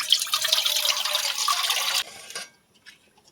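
Water pours steadily and loudly into a nonstick pan set on a gas stove for about two seconds, then stops, leaving a brief fading trickle, a few small drips and silence.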